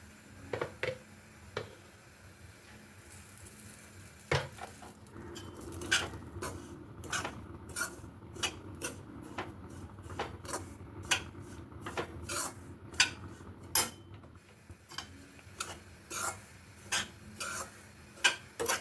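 Fine semolina roasting in ghee in a pan comes through as a quiet, steady low sizzle. Frequent sharp metallic clicks and taps of stirring recur irregularly throughout and grow busier after the first few seconds.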